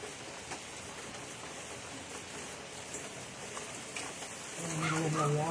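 Steady rain patters outdoors during a painting session among trees, a broad continuous hiss at an even level, with a bus rumbling up close in the last second.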